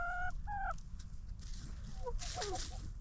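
Farm chicken clucking and calling, a couple of short tonal clucks at the start followed by higher squawky notes later, set against a low rumbling background.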